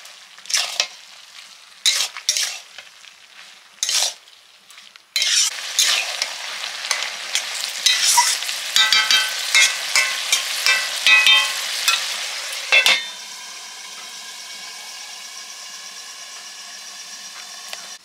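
Ground mustard paste blended with Kashmiri red chili and whole dried chilies hits hot oil in a pan, giving a loud, steady sizzle with stirring scrapes after a few brief spoon taps, then settling into a quieter, even frying hiss.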